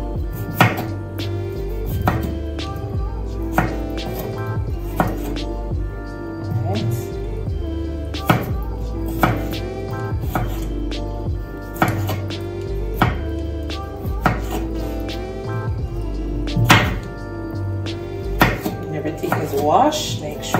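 A knife cuts salt fish into strips on a board, steady repeated chopping thuds through the whole stretch, close and clear, with a person talking over the cutting.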